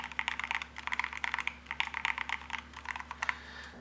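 Rapid typing on an Akko budget mechanical keyboard with woody-sounding switches gives soft, muted clacks in a quick, irregular rhythm. The keys are close and fairly quiet, with no voice over them.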